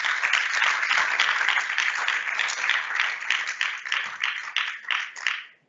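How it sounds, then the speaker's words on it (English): A university lecture audience applauds warmly with dense, continuous clapping that holds steady for about five seconds, then tapers off quickly into silence. "So I wanted to ask you guys just for a round of applause for Lydia and the Dean and"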